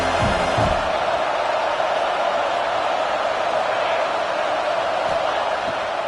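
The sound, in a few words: stadium crowd noise in NCAA College Football 25 video game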